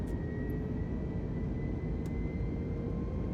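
A video game airplane engine runs at full throttle, a loud steady drone with a constant hum that stays level and close the whole time, with no voices.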